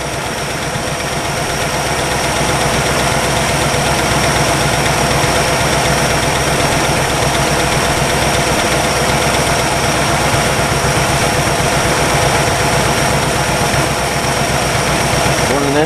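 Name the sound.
1962 Chevy engine idling while warming up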